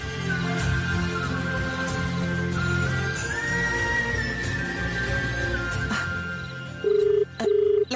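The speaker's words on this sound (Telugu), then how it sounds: "ఫోన్ రింగ్ అయిందే" A telephone rings twice in short electronic bursts near the end, following a stretch of dramatic background music with a sustained tone.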